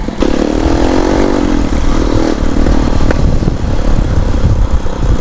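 A CPI GRX-250 motorcycle engine with an Akrapovic Trioval full exhaust roars loud and close, its revs rising then settling into a rumbling idle, with a sharp backfire pop partway through.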